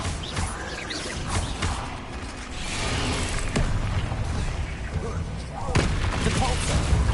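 Spell blasts from a Bombarda charm in Hogwarts Legacy: a dense, noisy barrage of booming impacts and crackling bursts, with sharp hits near the middle and end over constant game clamor.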